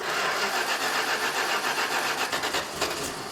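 An old, long-unused Dodge Monaco engine cranks over and over without catching, the flooded motor smelling of gas, a continuous loud churning drone with faint uneven stutters near the end and no talk.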